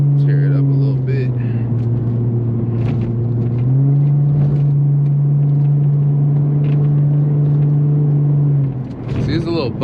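An Infiniti G35 accelerating hard on a bumpy city street, with loud, close engine drone holding a steady low pitch, then shifting and rising before easing off near the end.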